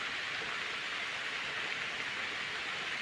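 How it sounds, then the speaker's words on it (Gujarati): Rain comes down over a village as an even, soft, unbroken hiss, faint and steady throughout with no voices. "ફક્ત આપણા ગામની અંદર વરસાદ છે"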